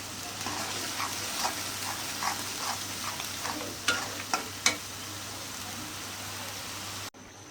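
Meat frying with onions and green chilies for a home-cooked biryani, a steady sizzle under intermittent scraping stirs and a few sharp clinks of a utensil against the pan, close and fairly quiet, with no talking.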